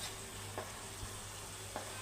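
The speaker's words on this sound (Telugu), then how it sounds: "పుదీనా పేస్ట్ వేసి ఇవ్వండి. మంచిగా ఫ్రై అయ్యింది." Mint paste fries in hot oil with a steady, close sizzle and a few soft stirring scrapes, with no voices.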